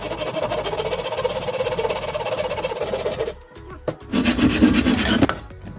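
A handsaw rasps steadily through a wooden branch, a dense continuous stroking that pauses briefly, then resumes for a short final burst; no one speaks.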